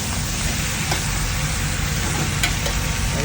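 Pork ribs with mung beans, tomato and pepper are stirred in a hot pan: a steady, close sizzle and bubbling frying sound with faint scraping, continuous and even.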